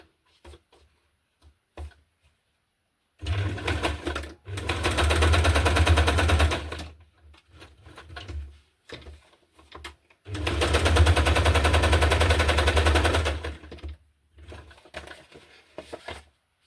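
An electric sewing machine stitches through paper pages of a handmade junk journal, running in two steady whirring bursts of several seconds each, separated by quieter handling noises, close and loud with no talking.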